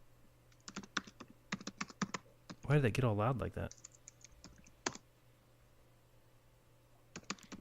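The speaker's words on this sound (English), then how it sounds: "Don't slam your keyboard." Rapid, hard keystrokes on a computer keyboard, sharp clicks in irregular bursts, interrupted midway by a short spoken remark and then resuming more sparsely.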